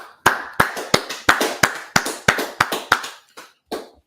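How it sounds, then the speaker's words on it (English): Crowd at a street gathering in Washington DC claps in unison, about a dozen sharp, evenly spaced claps that fade into a few softer, scattered final ones, close and loud with no talk. "let's clap it up"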